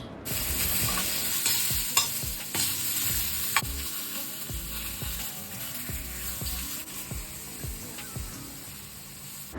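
Washed mushrooms fry in an iron pan with a steady sizzle, broken by frequent scraping and stirring knocks of a utensil against the metal, close and clear with no talking.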